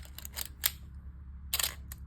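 An original early Olympus OM-1 35mm film SLR fitted with a 50mm f/1.8 lens fires its shutter, giving several crisp, quiet mechanical clicks in close succession with brief gaps between them.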